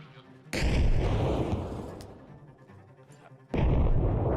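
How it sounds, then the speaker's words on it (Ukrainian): Two heavy, booming grenade blasts in Arma Reforger, one near the start and another near the end, with a rumbling tail between them, set inside a church. "я отут кинув гранату в цій церкві прекрасній"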